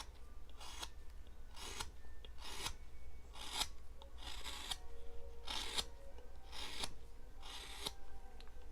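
A whittling knife pares end grain on a wooden Halloween Frankenstein gnome carving, cleaning up bandsaw marks: a series of about ten close, crisp scraping cuts in a steady rhythm, each a short rasping stroke with brief pauses between.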